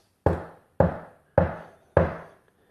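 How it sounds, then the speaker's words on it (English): Four evenly spaced knocks on a door, loud and close with nothing else heard, a plain, ordinary knocking pattern. "That is the most boring knock I've ever heard."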